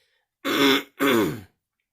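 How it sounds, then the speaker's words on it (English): Two close, harsh throat clears in quick succession, separated by a brief pause, with silence before and after. "I had to just go clear my throat for hopefully the last time."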